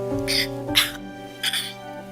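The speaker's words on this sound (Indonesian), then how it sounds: "Cuman batuk aja kok." A woman coughs, two or three short harsh bursts spaced apart, close and fairly loud, with a steady tonal hum behind them.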